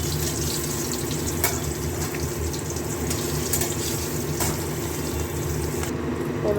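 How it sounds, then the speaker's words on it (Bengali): Cumin seeds and green chilies tempering in hot oil for a Bengali papaya curry, a steady dense sizzle that runs close and loud throughout with a few faint clinks, no voices. "এবার ওই তেলের মধ্যে দিয়ে দেবো একটু সাদা জিরে ফোড়ন, আর দিয়ে দেবো কাঁচা লঙ্কা"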